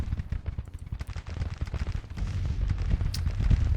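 Rapid, overlapping artillery and gunfire bursts from a Civil War battle in the video game Grand Tactician: The Civil War, with booming low-end thuds that grow heavier toward the end of the clip.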